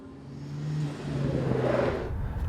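A car engine hums low and steady, then rises into a louder rev that holds near the end.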